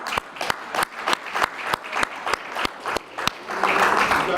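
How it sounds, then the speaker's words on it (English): At a 2019 grant-giving event, steady rhythmic clapping with sharp, evenly spaced beats swells into broader, fuller audience applause at the end. "just give her a round of applause"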